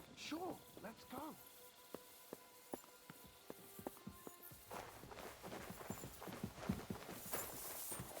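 Horses clip-clopping in the video game Kingdom Come: Deliverance II, a run of sharp, evenly spaced hoof clops in the middle, with voices speaking before and after.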